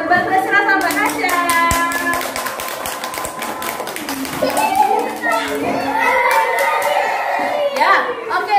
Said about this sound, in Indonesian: Tepuk tangan buat Mbak Graciela sama Mbak Nasya.